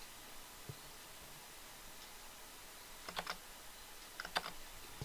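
Keys pressed on a computer keyboard, F5 and F11, while running code in the Visual Studio debugger: a few faint, close clicks in small clusters over quiet room hiss, with no voices.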